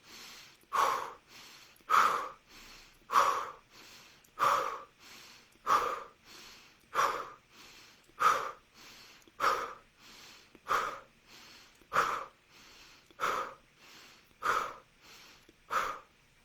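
Rapid belly-pumping breathing exercise during a guided new moon meditation: a steady run of about fourteen forceful, close breaths, each sharp exhale pushed out with a snort-like rush at an even rhythm, with quieter inhales between.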